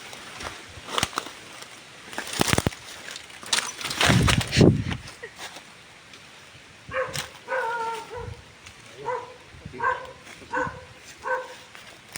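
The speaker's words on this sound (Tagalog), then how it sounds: "Pinapauwi na po kami guys ng asong yun." A dog barks in several short bursts, starting with a few sharp loud yaps and then a run of quicker, fainter barks spaced about a second apart, heard outdoors with some scuffing noise.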